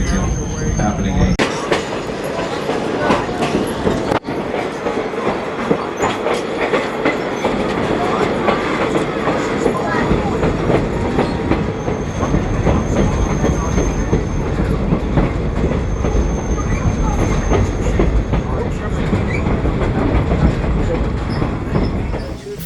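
Kettle Valley Railway steam locomotive 3716 hauling a train through the Okanagan Valley: continuous loud rumble with rhythmic clickety-clack of wheels on rail joints and occasional high wheel squeal, heard close and sustained.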